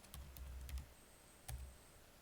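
Computer keyboard being typed on at a laptop during Linux setup, a few quick close clicks in a short burst, then a pause and one more pair of keystrokes.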